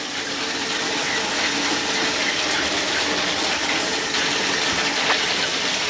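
Water gushes steadily from a newly replaced caravan mixer tap, a loud continuous rushing splash with no pauses and no voices.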